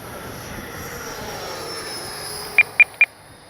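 An Arrows 64mm Marlin RC ducted-fan jet on its maiden flight gives a steady distant turbine whine in open air, and three short sharp beeps sound near the end.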